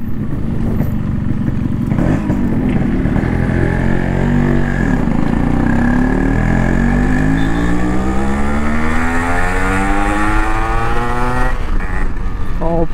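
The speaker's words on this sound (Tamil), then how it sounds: "டூ ஸ்ட்ரோக்கு புல்லு பயங்கரமாக இருக்குது." A Yamaha RX 135 two-stroke motorcycle engine revs and climbs steadily in pitch, loud and close, with a buzzy rising drone throughout.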